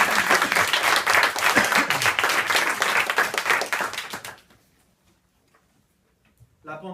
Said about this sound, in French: Encouragez Flo en l'applaudissant.